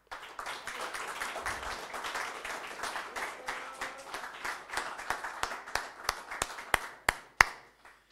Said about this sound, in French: nous avons applaudi au coin, un peu plus fort